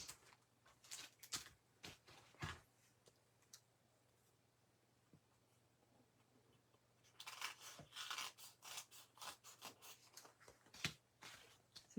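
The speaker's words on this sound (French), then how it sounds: "On va servir des ciseaux." Scissors cut paper during a fancy paper-folding craft session, with quiet bursts of snipping and rustling, first a few scattered cuts and then a denser run of clicks near the end, close but faint.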